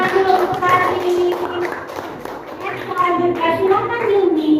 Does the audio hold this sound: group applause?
yes